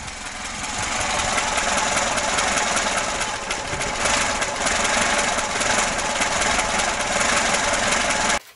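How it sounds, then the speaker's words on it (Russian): A stock VAZ 2106 engine idles roughly with a steady mechanical rattle and knock, loud and continuous throughout with no talk. "но движок немного болтает."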